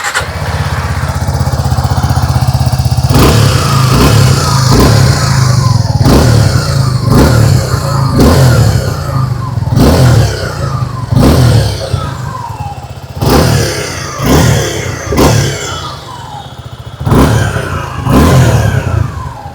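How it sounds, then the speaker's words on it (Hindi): A Suzuki V-Strom 250 motorcycle engine revved repeatedly up close, sharp throttle blips rising and falling over a rumbling idle, loud and alone. "आइए अब सुन लेते हैं इस बाइक की एग्जॉस्ट नोट।"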